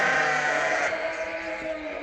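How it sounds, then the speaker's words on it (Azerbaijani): Pregnant Tatalilar breed ewes bleat in a flock of 27 sheep offered for sale. Steady, overlapping calls fill the space, close and fairly loud, with no talk. "bax belə 27 baş balalı boğaz qoyunlar satılır"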